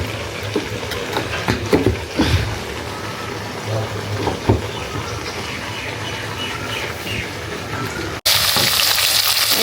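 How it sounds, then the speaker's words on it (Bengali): Bata fish coated in turmeric and salt fries in a pan with a loud, continuous sizzle and crackle. Occasional stirring clinks and pops sound over the steady frying. "এখানে মাছ ভাজা হইতেছে।"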